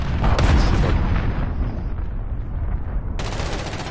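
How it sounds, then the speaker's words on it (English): Gunfire and a grenade blast in the video game Modern Warfare: a heavy boom opens amid rapid shots, followed by rumbling echoes and a fresh burst of fire near the end. "I'm just gonna throw a grenade over there."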